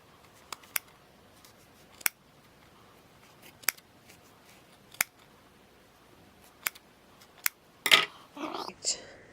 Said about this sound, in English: now I've got to cut my little loops